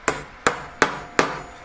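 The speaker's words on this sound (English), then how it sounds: "I'm just going to start by hammering it" Silver being hammered into the shape of a hand: four sharp, ringing metallic strikes land close and loud at an even, unhurried pace, and a fifth much fainter tap follows at the end.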